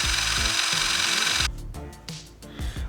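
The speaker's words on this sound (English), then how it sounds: "I am going to try and grind down this LED so that it can fit into there properly" A small LED being ground down to fit a 3D-printed Tie Fighter model: a steady high-pitched rotary tool whine that cuts off midway, leaving intermittent lighter grinding bursts, close and without talk.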